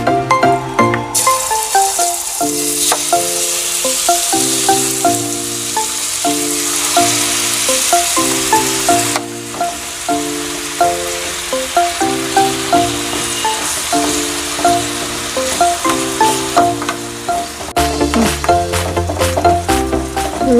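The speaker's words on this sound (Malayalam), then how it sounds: "അപ്പോൾ ചിക്കൻ്റെ വറുക്കാൻ വെച്ചിട്ടുണ്ട്." Marinated chicken pieces fry in hot coconut oil in a home kitchen, a steady loud sizzle running throughout with occasional crackles and stirring, no talking.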